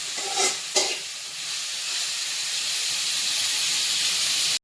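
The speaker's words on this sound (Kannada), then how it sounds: "ಫ್ರೈ ಮಾಡ್ತಾ ಇದ್ದಾರೆ ಚಂದ" Chicken biryani masala fries in a hot pan with a loud, steady hissing sizzle. Two brief stirring scrapes come early, then the sizzle runs on alone until it cuts off abruptly.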